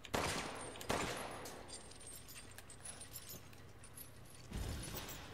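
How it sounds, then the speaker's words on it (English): Two sharp gunshot blasts near the start of a Resident Evil Village game scene, fired through an obstacle, followed by glassy rattling debris and a third burst toward the end, fairly close and loud with no talk. "I just realized I can shoot these with bullets"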